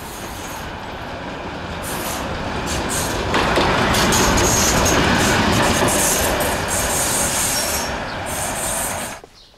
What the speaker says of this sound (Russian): когда трамвай идет, это ведь очень шумно